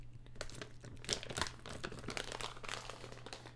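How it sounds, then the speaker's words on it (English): Craisins rustle and crinkle inside a plastic bag, a close, continuous crackling with sharper crunchy bursts, heard alone without talk. "These are louder because they're in a plastic bag"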